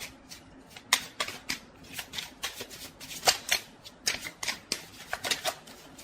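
Tarot cards being shuffled and drawn, crisp repeated riffling and flicking bursts in an irregular rhythm, close and clear with no talk.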